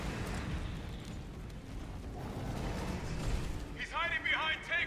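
Flame rounds exploding in a Resident Evil 3 remake firefight, a dense roiling rumble of blasts and bursts throughout, with voices talking over the end.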